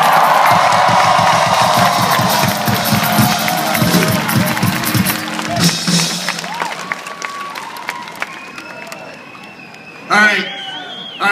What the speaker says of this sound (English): Can we get a huge round of applause for the city of Edmonton,